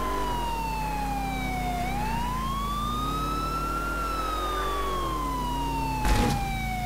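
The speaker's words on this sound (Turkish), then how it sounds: "Sirenleri yakıp gidelim." A wailing police car siren in GTA IV sweeps up and down in long continuous glides, loud and steady throughout, with a brief burst of noise near the end.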